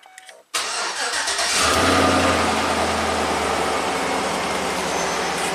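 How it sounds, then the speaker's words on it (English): A 2004 Chevy Silverado's starter cranks briefly after an alternator replacement, then the V8 engine catches and settles into a deep, steady rumbling idle close by. "Let's see if the truck actually cranks up and runs"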